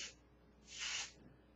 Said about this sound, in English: kind of cover your eyes and just spray